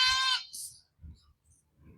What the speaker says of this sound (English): There's another goat over there.